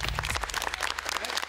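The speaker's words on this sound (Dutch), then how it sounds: "Applaus voor de scheidsrechter." Applause breaks out for a referee at a judo battle event, a short burst of dense clapping over a steady low hum, fairly close and lively.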